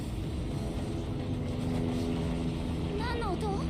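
Steady whirring drone of a helicopter in a video game runs throughout at a fairly loud, even level, with some bright chirping effects near the end and a voice talking over it.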